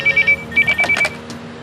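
A telephone rings inside a home: a loud, close electronic ring in quick repeated pulses, two bursts separated by a short gap, with no speech over it.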